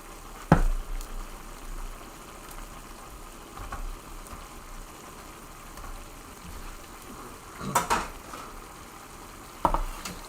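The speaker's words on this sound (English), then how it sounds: "I'm going to fold in the beef and see where we're at." Beef slices folded into a syrupy glaze in a pan for crispy ginger beef give a soft steady sizzle, with a few sharp utensil scrapes and clinks against the pan.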